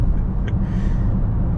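A BMW X5 M50i SUV pulls hard at about 3,000 RPM, heard as a steady, loud, deep drone with rumbling road noise filling the cabin.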